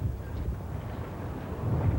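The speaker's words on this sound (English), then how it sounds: "Big gust of wind." Wind gusts across an outdoor grass tennis court at a 1990 Wimbledon semifinal, a low steady rumble that swells toward the end.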